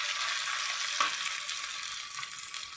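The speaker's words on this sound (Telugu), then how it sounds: "ఇప్పుడు వేయించుకుందాం." Ragi flour vadiyalu fry in hot oil with a steady, close sizzle and a faint stir midway, no talking.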